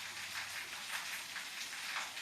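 Rain falls as a faint, even hiss of many drops, steady and somewhat distant, with no voices.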